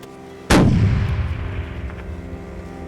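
A single loud rifle shot fired at a pronghorn while hunting in Wyoming cracks sharply nearby, then rolls away in a long, fading echo.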